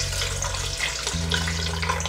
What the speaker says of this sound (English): So I'm gonna add a bit of water.